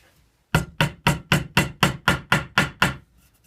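A hammer taps a small nail for a fretboard inlay on a cigar box guitar about ten times in a steady, even rhythm. Each tap is sharp and close, with brief quiet before and after.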